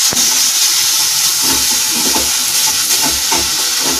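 Two large onions with ginger-garlic paste frying in a pan for bottle gourd kofta curry, a loud, steady hiss and sizzle with faint stirring scrapes, close and continuous.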